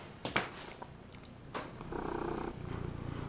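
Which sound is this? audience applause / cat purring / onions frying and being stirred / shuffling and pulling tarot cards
cat purring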